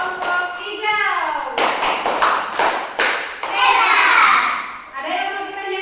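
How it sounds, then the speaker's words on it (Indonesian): Children in a classroom give a patterned cheer clap for the green group. Sharp, loud hand claps come in quick bursts between stretches of young voices chanting and talking. "tepuk hebat dulu buat kelompok hijau"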